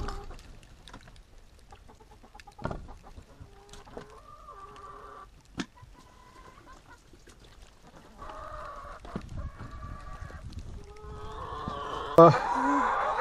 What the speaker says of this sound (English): let me get some of this water to the chickens, and we gotta get the eggs